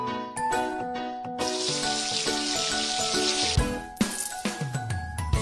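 Water rinsing in a cat hair salon video game rushes in a steady hiss for a couple of seconds over bright, chiming game music, followed by splashy clinks.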